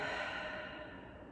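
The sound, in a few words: deep breath in and out during yoga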